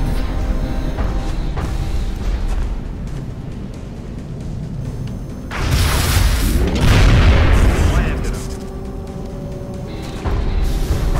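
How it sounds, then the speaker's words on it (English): A grenade detonates in the turn-based strategy game XCOM Enemy Within, a loud deep boom swelling midway and rumbling off for a couple of seconds over a constant low game ambience and faint talk. "So risking a grenade."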